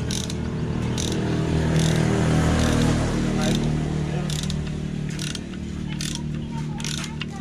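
Wrench ratcheting as a loose-threaded oil drain plug is tightened, repeated light metallic clicks in short bursts over a low motor hum, with someone talking throughout.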